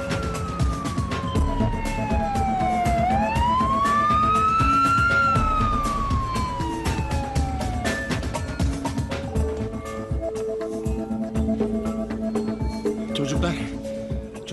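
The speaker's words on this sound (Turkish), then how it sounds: "Ambulans çağırıyor." A wailing emergency siren from an ambulance called after a girl hits her head, sweeping up and down loudly and close for several seconds, then fading into background noise.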